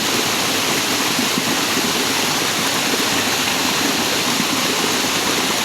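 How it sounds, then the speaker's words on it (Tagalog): Loud, constant rushing water from a waterfall roars without pause, a dense broad wash of falling water with no voices. "Maririnig mo talaga umaawit yung alon, guys."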